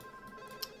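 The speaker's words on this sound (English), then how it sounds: "That's the phone." A telephone rings in The Sims video game, a faint steady ringing tone over soft background game music, with one brief brighter chime.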